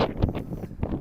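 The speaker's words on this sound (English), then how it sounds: "Oh, there's the wind." Wind buffets the microphone on a downtown city street in Regina as the weather turns nasty, giving a loud, continuous rumbling gust.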